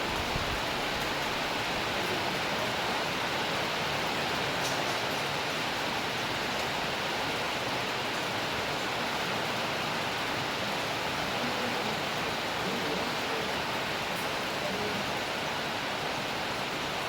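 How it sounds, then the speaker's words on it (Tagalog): Heavy rain pours down steadily near a house where tiles are being laid, a dense, unbroken hiss that stays loud and even throughout with no voices above it. "Bakit ang ulan-ulan?"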